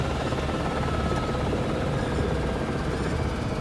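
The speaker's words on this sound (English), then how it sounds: "As the chopper lands" A helicopter comes in to land at a lakeside ridge near Te Anau, its rotor and engine roar loud, dense and steady throughout with no talk over it.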